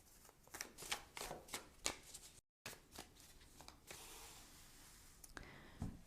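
Tarot and oracle cards being shuffled by hand, a run of crisp riffling flicks and soft slides at close range, quiet and irregular with a brief pause midway, no talk.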